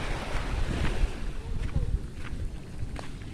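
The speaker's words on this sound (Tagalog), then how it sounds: "malakas yung hangin" Strong seaside wind buffeting the microphone in low, rumbling gusts while walking on a Sunday outing, with surf-like roar underneath and brief voices in the background.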